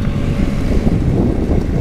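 Strong wind buffets the microphone at a house-building site during earthworks, a loud, continuous low roar and rumble with no pauses over the short stretch.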